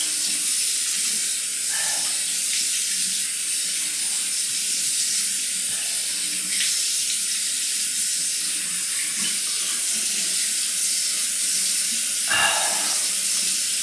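Water pours steadily from a tap during rinsing, a constant close hiss that lasts throughout. A few faint knocks and clinks sound over it, and no one speaks.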